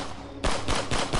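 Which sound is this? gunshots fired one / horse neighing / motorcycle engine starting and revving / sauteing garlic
gunshots fired one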